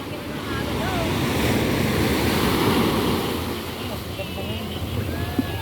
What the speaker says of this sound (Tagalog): Ala, kalalaki ng alon.